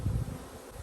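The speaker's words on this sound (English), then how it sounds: "there's already a lot of bees up there" Honeybees buzz around an opened, queenless beehive in a brief, close, steady low drone with no talk.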